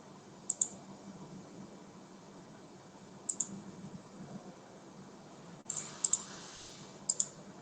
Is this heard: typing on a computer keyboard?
yes